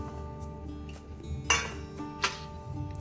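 Rice flour is stirred into boiling milk in a pot over low heat while making steamed rice-flour modak. Two distinct clinks of a utensil against the pot ring out over a low, steady kitchen hum.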